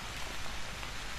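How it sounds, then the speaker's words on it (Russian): Heavy nighttime downpour in the horror game Haunted Memories, set in a dark forest near a car: a dense, steady hiss of rain with no pauses, fairly loud and unbroken, with no voices. "Ну вот дождь."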